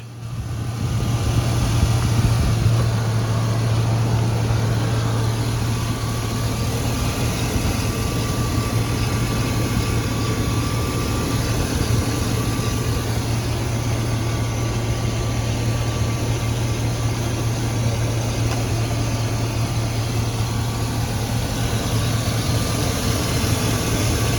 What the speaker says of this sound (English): here it is, running just nice, beautiful, beautifully running engine for the mileage